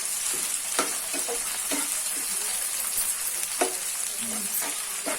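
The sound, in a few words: frying tomatoes in a pan for garlic dosa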